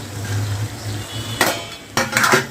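A spoon scrapes and clinks against a metal pan while bottle gourd and chana dal curry is mixed, giving two or three sharp close knocks over a low background hum.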